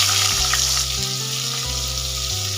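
Potatoes seasoned with salt and turmeric fry in the oil left from frying rohu fish, a close, steady sizzle with faint stirring running unbroken throughout.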